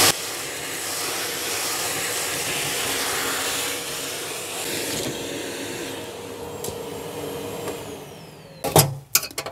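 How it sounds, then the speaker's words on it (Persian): A vacuum cleaner runs steadily and fairly loud while cleaning around a home kitchen stove, a continuous broadband whine that fades slightly before a few sharp clunks and knocks near the end. "حالا اینجا را جارو برقی میکشیم دوستا"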